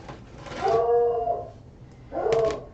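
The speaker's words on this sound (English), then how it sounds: "oh my gosh, I wish she'd quit barking" A dog gives two drawn-out whining barks or howls, loud and close, separated by a brief pause, in a quiet indoor room.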